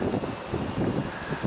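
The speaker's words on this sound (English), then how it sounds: "Windy day here in the SLC." Wind gusts outdoors on a windy summer day in Salt Lake City, a steady rushing buffet of air against the microphone with soft fluttering swells throughout.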